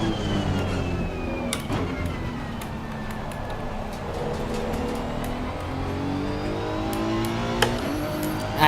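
Race car engine in Assetto Corsa Competizione at Valencia, a steady loud drone that shifts pitch smoothly as revs rise and fall, with a brief click near the end.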